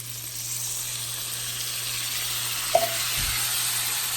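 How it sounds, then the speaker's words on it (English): A pan being deglazed after frying buttery garlic lemon steak bites gives off a steady, soft sizzle and hiss. A brief clink of a utensil comes near the end, with a low background hum throughout and no voices. "now what I'm gonna do is deglaze the pan"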